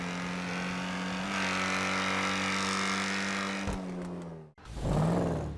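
Jugular sports car engine in GTA Online revving loud and high-pitched with a sustained droning tone that shifts pitch, then cuts off briefly before surging back.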